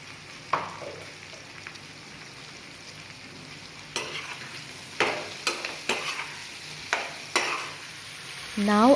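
Salt and turmeric being stirred into food in a frying pan, with a soft background sizzle broken by repeated spoon scrapes and taps against the pan at irregular intervals.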